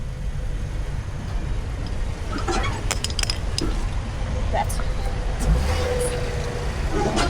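A car idles and creeps slowly in reverse while being steered onto a U-Haul tow dolly beside the I-40 westbound in Williams, Arizona, with a steady low engine rumble, some clanks, and road noise throughout.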